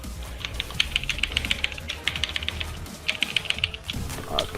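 Rapid clicking of a computer keyboard during an Aion gladiator arena match, bursts of quick keystrokes with brief pauses, moderately close and fairly quiet, no speech.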